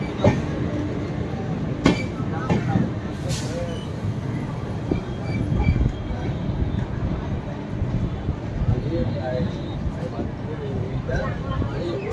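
A train hauled by a WAP4 electric locomotive rumbles steadily along the rails with faint rhythmic clatter, continuous and fairly close, with a few sharp clicks along the way.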